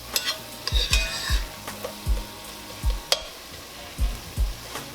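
Flour cooks in a Dutch oven for short ribs, stirred with repeated low scraping strokes at an uneven rhythm over a soft background sizzle.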